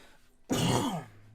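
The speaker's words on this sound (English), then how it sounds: "Coughing." A single harsh throat-clearing cough bursts out loud and close, lasting about half a second before trailing off into quiet.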